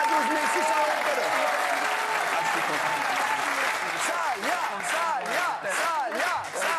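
A French TV studio audience breaks into sustained, dense applause with cheering, loud and steady throughout, while a host's voice and excited whoops rise above the clapping.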